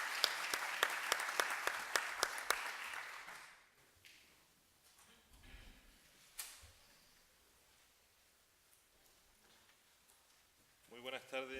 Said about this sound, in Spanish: la palabra al doctor Alfonso Caballé Cruz, para quien pido un caluroso aplauso